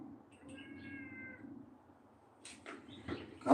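A pet cat meows a few times nearby, drawn-out cries followed by shorter rough mews against a quiet indoor background, with nobody speaking.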